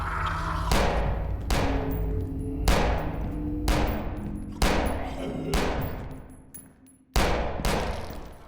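Video game gunfire as seven heavy, booming single shots spaced about a second apart, each ringing out with a long decaying tail, loud and close with no talk.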